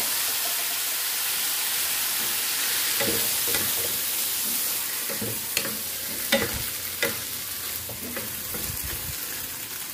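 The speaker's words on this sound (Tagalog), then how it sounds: "Lagay natin ang naboil na natin na munggo." Boiled mung beans go into a hot pan for ginataang monggo with a steady loud sizzle and hiss, followed by scraping stirring strokes and a few sharp clinks, with no talking.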